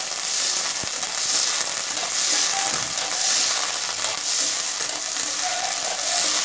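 Onions and tomatoes sauté in a pan with a steady, loud broadband sizzle that holds through the whole stretch, broken by a few faint clicks of a utensil and no voices.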